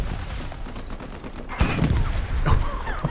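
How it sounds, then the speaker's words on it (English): Explosive rounds firing and impacting in a console military shooter game, a couple of loud booming blasts with rattling gunfire in the background of a chaotic battle. "Gotta love those tank rounds sailing on in."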